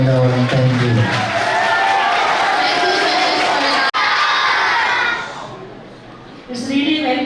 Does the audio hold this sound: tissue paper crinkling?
no